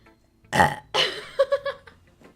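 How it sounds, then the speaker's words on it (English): A short, loud burp erupts from a person, followed by a few quick voiced bursts, close and clear against near silence. "It makes you burp."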